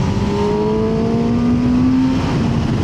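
A Kawasaki ZX-10R Ninja sports bike engine revs and pulls hard under acceleration, its loud whining note climbing steadily with no voices over it.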